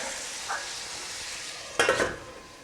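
Jalapeños frying in a pan for charro beans give a steady broadband sizzle, with a brief utensil scrape near the start and a louder stir or clatter toward the end; no one speaks.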